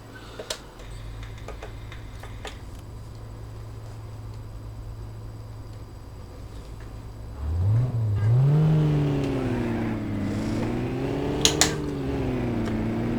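A Renault Twingo RS engine in the City Car Driving simulator holds a steady drone, then revs up around the midpoint into a rising, wavering whine that climbs and settles at higher speed, loud and alone.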